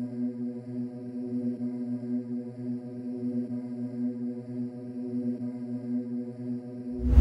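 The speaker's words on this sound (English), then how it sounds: "Yeah, kinda like a choir or something like that" A sustained, choir-like synth pad from the Arcade Distant Voices preset in FL Studio, used as a dark ambient background tone with no effects; it holds steady and fairly quiet with no talk.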